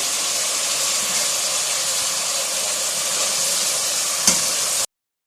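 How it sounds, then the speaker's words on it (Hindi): Chicken frying in a pan with ginger garlic paste gives a steady, close, loud hiss and sizzle for about five seconds, with one brief clack near the end before it cuts off. "इसमें चिकन फ्राई हो जाता है, इसके अंदर 1 टेबल स्पून जो है ना वो अदरक लहसुन का पेस्ट डाल देंगे।"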